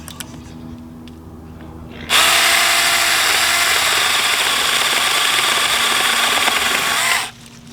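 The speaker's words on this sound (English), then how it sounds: "Let's see what it does to this." A tiny chainsaw revs up and cuts through a dead pine branch a little over an inch thick, a loud, steady buzzing whine for about five seconds before it cuts off, close by, with no talking.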